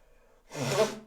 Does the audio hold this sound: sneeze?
yes